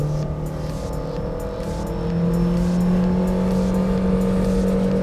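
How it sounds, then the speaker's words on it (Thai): A Honda BR-V car accelerates toward 100 km/h, its engine note rising steadily and growing louder midway, heard from inside with a constant road roar beneath it. "ตอนนี้เร่งให้ถึง100ก่อน"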